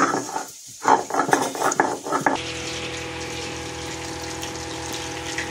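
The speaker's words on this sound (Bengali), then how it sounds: "এখানে মাছ ভাজা হচ্ছে" Pieces of katla fish fry in a pan for a Bengali fish curry. Clattering and stirring come first, then a steady, even sizzle of hot oil takes over and holds.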